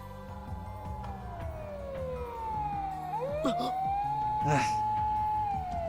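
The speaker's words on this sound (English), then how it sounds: "a shrill siren shatters the night" A police car siren wails, sweeping down and back up in pitch, loud and fairly close, over a dense background of music and rumbling noise.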